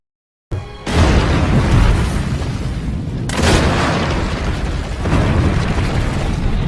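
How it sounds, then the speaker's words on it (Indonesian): Fuel depot blown up in the Indonesian war film Darah Garuda: a loud, sustained rumbling explosion that bursts in sharply, then swells again in two more heavy roaring waves, with no voices. "Thomas berhasil meledakkan gudang bahan bakar"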